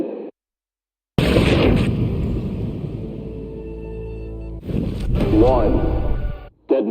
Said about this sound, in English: Five, 4, 3, 2, 1. Detonate.